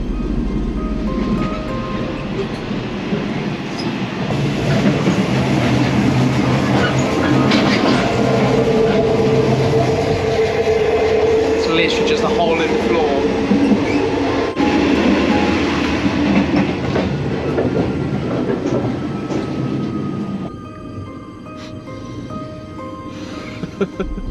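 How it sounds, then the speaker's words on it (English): A sleeper train rumbles steadily along the rails through jungle with faint clickety-clack and occasional squeals, loud and close, easing off near the end. "We're currently on the sleeper train right now."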